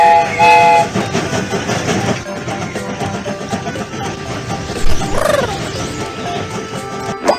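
A cartoon train sets off, with a whistle toot near the start, rhythmic rolling and clacking of wagons, and another bright whistle midway, loud and close throughout.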